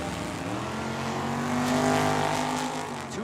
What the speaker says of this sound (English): Typical Saturday night bracket race here between these two.